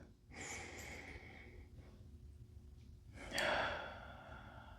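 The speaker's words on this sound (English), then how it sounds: "take one big inhale" Two deep breaths taken during a yoga class: a long, airy inhale followed by a softer exhale, then a second stronger, sharper intake of breath, all close to the microphone in a quiet room.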